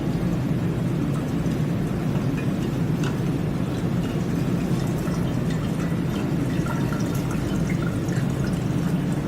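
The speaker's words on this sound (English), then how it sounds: "So I'm just gently turning the funnel and making sure all that extra residue is poured through" Liquid YES growth media pours steadily through a funnel into a lab flask, a close continuous splashing gurgle with small drips, loud and without speech.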